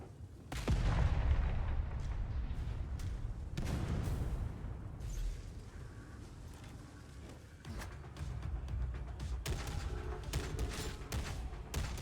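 Booming grenade blasts and gunfire in the Warhammer 40K Darktide video game, with a sharp explosion near the start and more rumbling hits and mechanical clatter through a dense battle mix.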